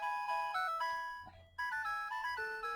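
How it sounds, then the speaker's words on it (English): A telephone rings in a room where a vintage Pioneer SX-850 stereo receiver is being tested, giving a melodic electronic ringtone with repeating stepped tones, a short gap, then the pattern starting again, loud and close. "And the phones just keep on ringing."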